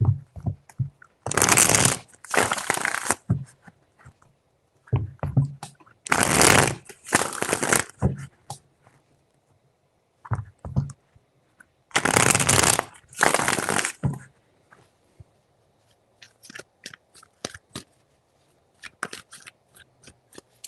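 Tarot cards are shuffled close up in three separate bouts of quick riffling bursts, each a couple of seconds long. Sparse clicks and handling taps fill the quieter gaps between bouts.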